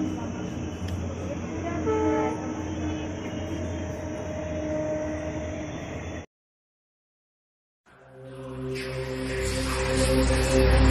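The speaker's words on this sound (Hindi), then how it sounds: "फ्रेंड्स यहाँ पे रेलवे स्टेशन है और अभी ट्रेन जा रही है।" A train passing near a railway station in Guwahati, with a continuous loud rumble of wagons and a sustained horn tone, a short break, then the rumbling rising again close by.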